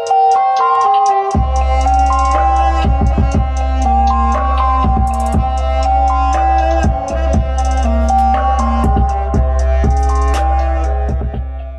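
A beat built on a saxophone sample layered with synth, drums and bass plays continuously: punchy low bass and kick, crisp hi-hat ticks, and sax melody on top, dense and loud with no talking.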